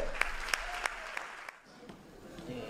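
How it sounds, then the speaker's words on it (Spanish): An audience at a sports gala in a theatre applauds a bodybuilding award winner; a few distinct claps ring out over a quiet room, then thin and fade. "Un aplauso también en esta mención, en este premio, para Jesús Labrador Romero."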